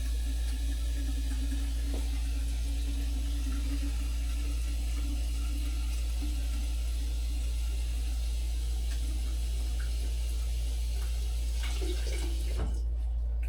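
Cold tap water runs steadily into a kitchen sink or container while cooking, a continuous hiss with a low hum beneath it, close and even, with a few small clunks near the end.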